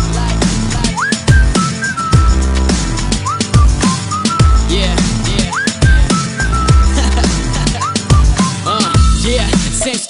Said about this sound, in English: But I didn't know what to say, so I just whistled at her.